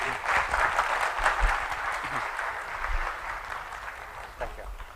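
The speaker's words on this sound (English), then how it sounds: "Give him a big clap for this presentation." An academic conference audience claps for a professor after his talk on computational metaphysics, a moderate, fading round of applause with a voice faintly underneath.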